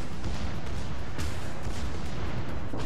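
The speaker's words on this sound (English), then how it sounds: "And he gets the main battery shot." A warship's main battery guns fire in World of Warships, heavy booming blasts rolling into continuous loud rumble, with a sharper report about midway.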